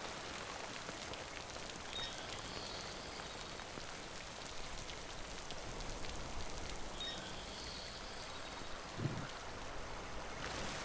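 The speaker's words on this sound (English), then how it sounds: "Damn, it's still raining here." Rain falling in a video game, a steady, even hiss of drops on surfaces with a faint trickling quality, constant throughout with no speech.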